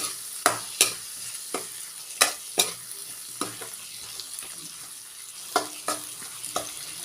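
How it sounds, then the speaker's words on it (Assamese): Fenugreek greens being stirred and fried with spices in a pan, a spoon scraping in repeated sharp clacks over a steady low sizzle, close and alone. "মই এইদৰে আটাইবিলাক মিহলাই ল'ম"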